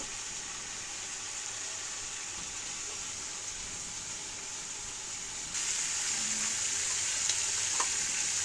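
Chicken meat browns in a pan for a homestyle chicken curry, giving a steady, close sizzle and hiss that grows a little louder partway through, with faint stirring knocks and no voices.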